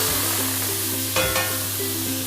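Shrimp and scallops frying with garlic in a stir-fry pan, a steady loud sizzle throughout with a couple of brief scraping stirs midway, close up and without talk.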